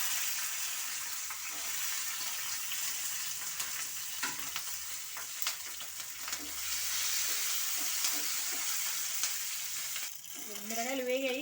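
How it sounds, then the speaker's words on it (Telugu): Green chillies sizzle and fry steadily in hot oil in a pan, a continuous close crackling hiss with brief stirring clatters and a rising whistle-like tone near the end. "మిరగాయలు వేగాయి, తీస్తున్నాను."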